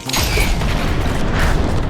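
M2 explosive weapon in a video game firing a dense burst of booming blasts, loud and close, sustained and continuous across the whole moment with no talking.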